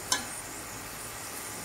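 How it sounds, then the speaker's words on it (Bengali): Chopped vegetables for Bengali-style veg fried rice fry in a pan, a soft even sizzle after a single sharp clink near the start, with no voices. "তো এগুলো ভাজা হোক"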